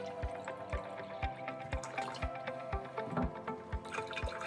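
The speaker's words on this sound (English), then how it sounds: "so I'm going to add some water." Water from a watering can mixed with plant nutrient runs into a vase. A faint, close trickle is punctuated by a steady series of soft, evenly spaced low thumps, with no voices.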